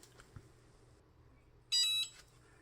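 A sublimation mug heat press signals it has finished with a single loud, high-pitched electronic beep lasting about a third of a second, sounding clearly above a quiet background.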